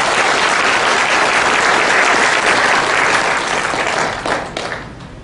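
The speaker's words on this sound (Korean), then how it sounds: "여러분 힘찬 격려의 박수." Dense, steady applause fills a hall at the launch rally of a national security movement, a broad wash of many hands clapping close and loud for several seconds before thinning out and tapering off toward the end.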